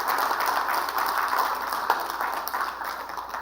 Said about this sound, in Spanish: con este aplauso le damos el recibimiento a cada uno de ustedes